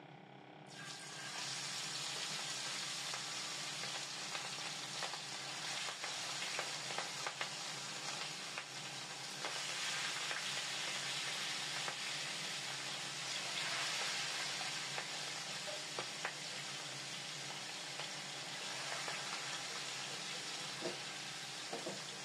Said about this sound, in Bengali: দিয়ে দিচ্ছি এই যে হলুদ মরিচ মেখে রাখা মাছগুলি।